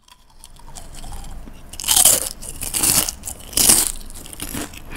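Seaweed rice crisps in several flavours crunched together in the mouth, close and loud, with three bursts of crisp chewing and biting rising out of a quiet start, no talking.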